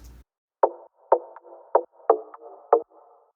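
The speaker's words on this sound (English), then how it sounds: "I usually have a plucky attack layer above that that's higher in frequency spectrum" A plucky, mid-pitched synth layer with sharp attacks, playing a short rhythmic pattern of repeated notes with brief sustained tails between hits.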